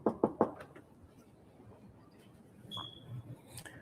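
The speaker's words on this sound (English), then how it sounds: "Let me knock again. I don't think they heard it." Knocking on a door, three sharp raps at the start, then faint background noise and a few soft sounds.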